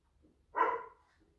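A single sharp dog bark, short and fairly close, standing out against an otherwise quiet room.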